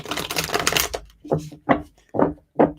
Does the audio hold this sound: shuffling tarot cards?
yes